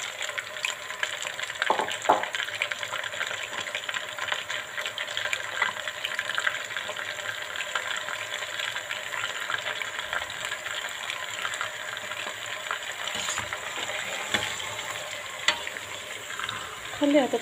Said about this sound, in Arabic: بديت نقلي في القرنيط نتاعي